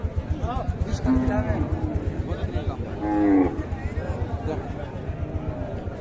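Sahiwal cow lowing at the Raniganj cattle market in Dinajpur, with two or three long moos rising close by over steady chatter and a constant low engine-like rumble of the busy market.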